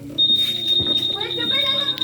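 A keyless 2025 Honda security alarm gives a steady high-pitched electronic tone, loud and close, while someone talks over it.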